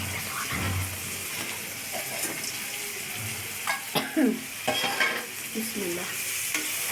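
Fish fritters frying in a pan with garlic, sizzling steadily up close while a utensil stirs and scrapes them in irregular bursts, with faint water or tap sounds in the background.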